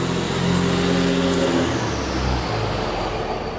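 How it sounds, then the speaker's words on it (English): A big truck passes close by on a road, a loud broad engine rumble and roar that swells, then slowly fades as it moves away, with no voices over it. "No, it wasn't a bus, it's a big ass truck."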